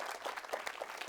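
Audience applause at an Indonesian talk, a steady wash of clapping from a crowd, moderately faint and continuous with no voices over it.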